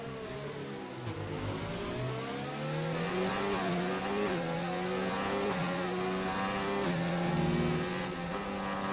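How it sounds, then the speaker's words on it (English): A McLaren Formula 1 car engine in the F1 2019 racing game at the Chinese Grand Prix, a steady high-pitched whine that rises and falls through gear changes, loud and continuous with no talk over it. "Go on board the McLaren now as he tries to find a way around Sosa, coming up upon this very technical sector 2."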